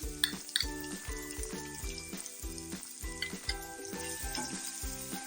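Cream is stirred into a frying pan of macaroni sauce, giving a soft, quiet sizzle under repeated rhythmic scraping and knocking of a spoon against the pan, with faint clinks.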